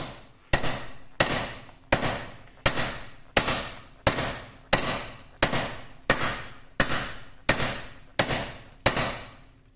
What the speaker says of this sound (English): I'm just going to take the socket with a hammer and just give it a small tap.